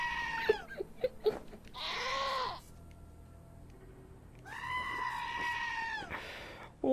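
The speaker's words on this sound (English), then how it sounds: "Why is the goat being given the goat scream?" A goat in the game Wasteland 2 lets out several loud, harsh, human-like screaming bleats, some short and some drawn out, separated by quiet gaps.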